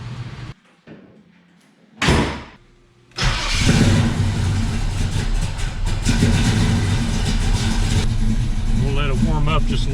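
A 1970 El Camino engine starts after a brief crank and settles into a loud, steady idle as it warms up, heard close in a garage with a door clunk beforehand.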